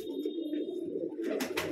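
A mohri pigeon in a Bijnor loft coos in a low, unbroken rumble, near and steady, with faint chirps and a couple of sharp flutters or scrapes toward the end.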